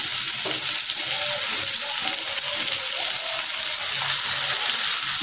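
Onion and cumin paste frying in a pan, a steady close sizzle with soft scraping as the spice paste is stirred, running unbroken throughout with no talking.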